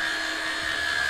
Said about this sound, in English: He's using my fucking Hoover.